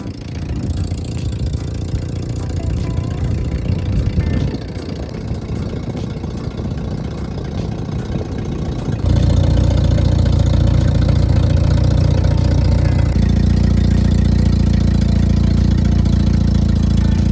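A rare mini truck's small engine runs steadily close by, first a rough idle, then louder and fuller after about nine seconds as the revs rise, with no voices.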